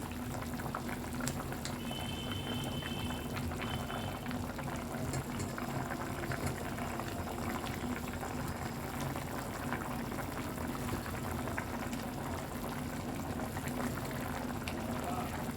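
Chickpea fritters simmering in a pot of curry gravy, a continuous bubbling, boiling hiss at a steady low level throughout, close by with no clear voices.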